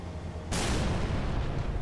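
A tank cannon firing in the video game Halo 3: ODST, one sudden heavy boom that follows a short rumble and rolls on as a sustained blast.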